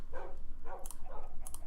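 Dogs in the video game Crash Landing give three short barks, evenly spaced and fairly faint over a low background hum.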